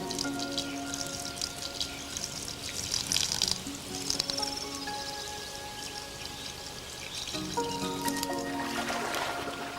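Water poured and dripping as birds shower their eggs in hot conditions, a faint trickle with scattered drops and tonal chirps throughout.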